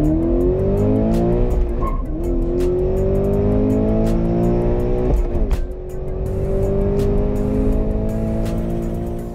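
A 2017 Subaru BRZ Inazuma fishtails, its engine revving hard in long rising sweeps while a sharp tire squeal cuts in briefly near the start; the car stays loud and close throughout.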